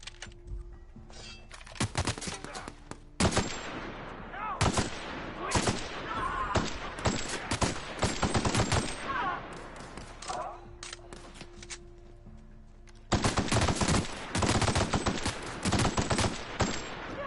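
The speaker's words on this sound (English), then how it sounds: "Oh, I got an assault rifle now." Assault rifle fire in The Outer Worlds comes in sharp, loud automatic bursts separated by pauses, with a longer sustained volley near the end, alongside clicking keys and someone talking at times.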